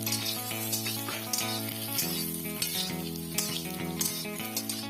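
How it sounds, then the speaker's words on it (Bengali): Potatoes frying in a pan with a few green chillies added, giving a steady close sizzle with light scraping accents, set under continuous background music. "আলু ভাজা হচ্ছে, এর মধ্যে কটা কাঁচা লঙ্কা দিয়ে দিয়েছি।"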